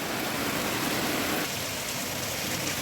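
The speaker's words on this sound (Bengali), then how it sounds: "বৃষ্টিটা কিন্তু ভালোই জোরে হচ্ছে" Heavy rain pours steadily onto a balcony during a downpour, a dense, continuous hiss that stays loud and even throughout with no voices.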